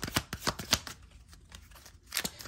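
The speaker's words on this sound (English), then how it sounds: "Sorry about the loud shuffling. These cards are new, so they make a lot of noise." New tarot cards being shuffled: a run of loud, crisp riffling bursts in quick rhythm, then a brief quieter pause before another riffle, close up with no talking.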